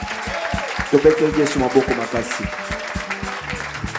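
A church congregation claps in a steady rhythm while voices ring out over the beat, the claps close and bright under the singing and calling.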